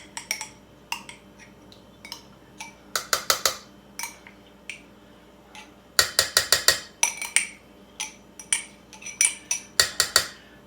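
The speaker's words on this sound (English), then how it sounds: "I'm going to use this little spoon over here and get all this chili sauce out." A small spoon clinks and scrapes against a container while getting chili sauce out for pepper jelly wings, in quick clustered bursts of sharp metallic taps with short pauses between, close and fairly loud.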